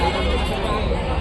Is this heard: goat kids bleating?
yes